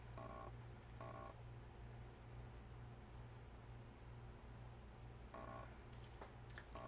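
Keypad tones from dialing a call on a mobile phone: a few short beeps in two small clusters, faint against a steady low hum and hiss in an indoor room.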